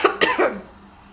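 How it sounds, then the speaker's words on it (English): A person indoors coughs twice in quick succession, fairly close and moderately loud, then falls quiet. "I have to like cough halfway through this"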